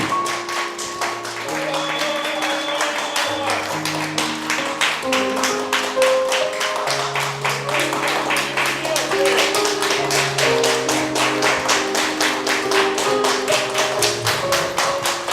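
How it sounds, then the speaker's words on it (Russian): Guests at a wedding clap steadily and rhythmically for the mothers of the newlyweds, with the applause filling the room continuously over background music. "Аплодисменты нашим мамам."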